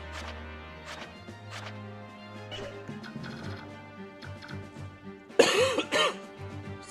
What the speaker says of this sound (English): Still trying to shake off this last little bit of cough.